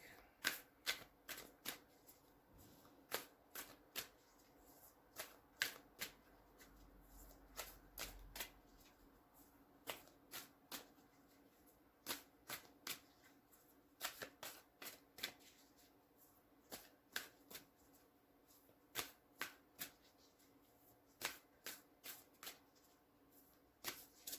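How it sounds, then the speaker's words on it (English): Tarot cards are riffled and shuffled in quick bursts of crisp flapping clicks, repeated many times with short pauses between, close and quiet. "One more shuffle."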